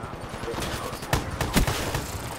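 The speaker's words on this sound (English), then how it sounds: "I shot him in the head." Gunfire in the video game Call of Duty: Black Ops 3, a few sharp, fairly faint shots cracking out in quick succession amid game noise, with a player talking over them.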